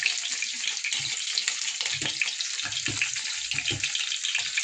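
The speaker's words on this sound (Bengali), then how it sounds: "সব স্টিকগুলো ভেজে নেব।" Paneer sticks fry one by one in hot oil, giving a steady bright sizzle with soft bubbling pops and occasional low clunks as pieces go into the pan.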